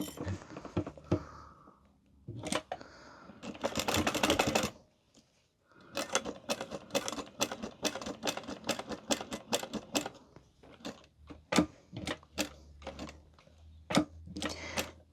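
A sewing machine stitches around a crossbody bag with the Pisces pack add-on in short rattling bursts of rapid needle clatter. Clicks and pauses fall between the runs as the fabric is turned around a curve.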